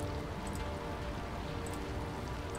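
Steady rain falls in the Nancy Drew: Midnight in Salem video game, a dense, even hiss of drops on surfaces that stays constant throughout, with no talk over it.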